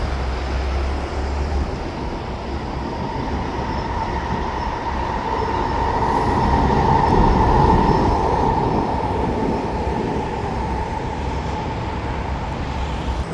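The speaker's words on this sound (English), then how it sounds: "there comes the switcher now with racks" A switcher locomotive moving rail cars loaded with racks, a loud continuous rumble of rolling wheels and clanking cars passing close by, with a faint high squeal rising through the middle.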